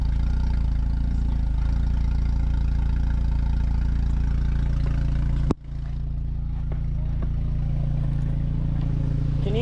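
Tank 300 SUV engine running during off-road driving, a loud steady low rumble that holds throughout with a brief sharp dip midway, while people talk over it.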